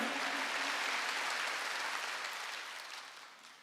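A church congregation at a Korean Wednesday worship service bursts into sustained clapping that fills the room, then gradually tapers off toward the end.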